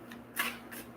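A deck of reading cards being shuffled, a few quick soft riffling bursts, close and quiet.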